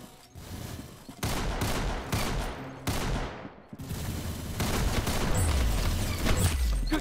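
Rapid gunfire from the video game Arsenal crackles in dense sustained bursts with brief pauses, loud and close, with no talk over it.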